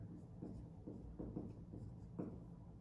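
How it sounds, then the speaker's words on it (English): A word being written out by hand, a soft series of scratchy strokes close by over a low steady background hum, with no talk. "let me write it here"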